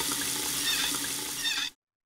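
Water gushes steadily from a tap in a cartoon, a loud continuous rushing stream that cuts off abruptly near the end.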